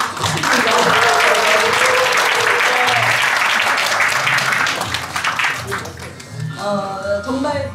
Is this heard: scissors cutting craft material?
no